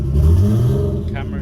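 A Nissan Skyline R33 with an HKS intake runs after starting, its engine revving with a rising, then falling rough drone, close and loud over a short moment.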